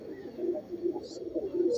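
Domestic pigeons coo softly in a low, repeated rhythm, kept close by and heard with no talking, while a faint higher chirp briefly shows above.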